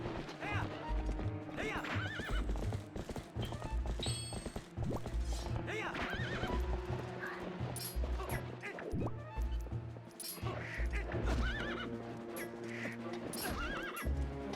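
Horse neighing and clip-clopping hooves in the video game Zelda: Twilight Princess, steady hoofbeats running throughout with whinnies over game music, a voice talking at times.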